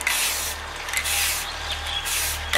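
A steady, close hiss from an aerosol can spraying topside paint in short bursts that nearly run together, with slight dips between passes and no talking.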